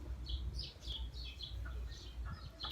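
Faint, high chirps from small birds come in short bursts over a low outdoor rumble, distant and scattered across a few seconds.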